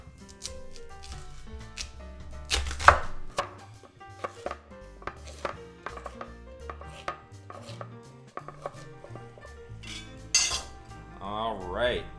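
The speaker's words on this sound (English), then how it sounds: "Now we're going to chop it into 1/2-inch cubes." A peeled sweet potato being chopped into half-inch cubes with a knife on a cutting board, a run of irregular sharp close knocks with occasional clinks and brief pauses.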